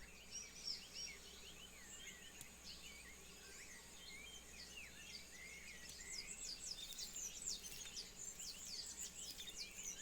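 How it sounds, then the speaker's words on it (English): Jungle birds chirp and whistle steadily in Empires of the Undergrowth as ant birds circle overhead above the leaf litter, a dense, moderately loud chorus over a low insect-like hum that grows busier in the second half. "the ant birds are circling overhead"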